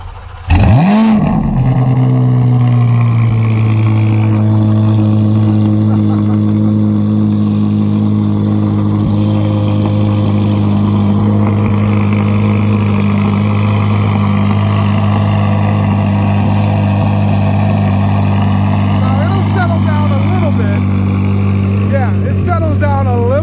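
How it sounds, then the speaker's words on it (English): A Chevrolet Corvette Z06 with a Fab Speed exhaust cold-starts with a brief crank and bark, then settles into a loud, sustained high idle droning steadily up close. "I know that you guys wouldn't let me get away with not letting you hear a cold start"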